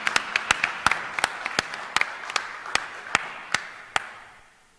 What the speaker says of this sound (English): Mr. Bande, with a round of applause, we invite you to the podium.